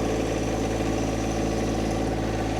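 A John Deere 1025R compact tractor engine runs steadily while hauling heavy white oak logs, a loud, continuous low drone with constant vibration and no break in the sound.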